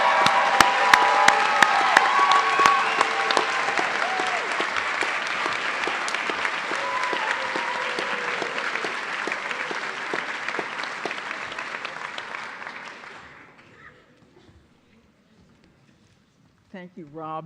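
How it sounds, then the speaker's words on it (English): A large audience at a graduate degree ceremony applauds new graduates and their advisors, with dense, sustained clapping that fades out near the end, followed by brief quiet and a short burst of sound. "Let us have one more round of applause for the new graduates and their advisors."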